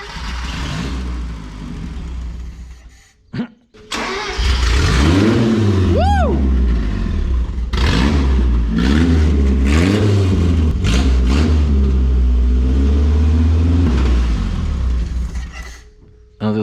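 A 1984 Mazda mini truck engine cranks, catches and starts, then revs up and down repeatedly, loud and close, with voices talking over parts of the running engine.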